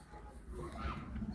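Soft pigeon cooing inside a desi pigeon loft near Howrah, low murmuring coos rising partway through under a faint background of voices.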